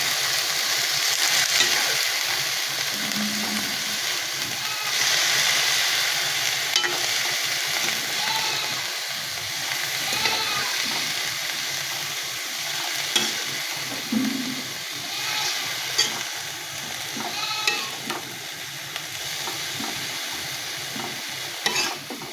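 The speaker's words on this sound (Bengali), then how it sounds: "এই শাকগুলো দিয়ে দিয়েছি। এখন আমি একটু নেড়ে চেড়ে দেবো।" Leafy greens tossed in a pan with browned garlic sizzle steadily while a utensil stirs them, bringing occasional scraping clicks and soft rustles over a continuous close frying hiss, with no talking.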